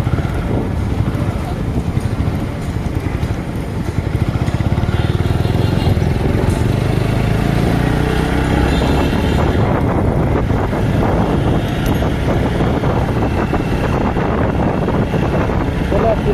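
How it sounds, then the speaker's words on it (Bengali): A TVS Apache RTR 4V motorcycle being ridden on the road, its engine a loud, steady drone through heavy wind rush, with a voice talking over it. "চলে আসছি বাইকে কথা বলতে বলতে।"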